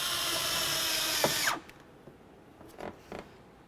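A power drill whirs steadily while driving a screw into the driver's side door of a 2003-07 Chevy Silverado during a mirror replacement, then stops at about 1.5 seconds, followed by a few faint handling knocks.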